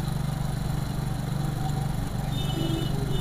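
A motorcycle engine fitted with an AC pump runs steadily while its idle RPM is being adjusted, a loud, close, continuous drone with no break and no voices.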